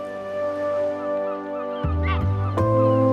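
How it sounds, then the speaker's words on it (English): Flamingos and northern shovelers call from coastal lagoons in Spain, honking goose-like cries arriving in a few bursts over a bed of sustained tonal music. "Behind the beaches in the lagoons, flamingos and northern shovelers."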